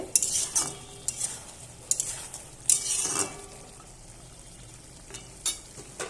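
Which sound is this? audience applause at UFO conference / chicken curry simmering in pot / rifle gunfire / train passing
chicken curry simmering in pot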